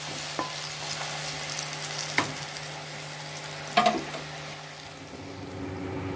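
Dal tikiya lentil cakes fry in hot oil with a steady, close sizzle throughout, broken by a couple of sharp utensil clinks and a brief splash of spatter as pieces are turned.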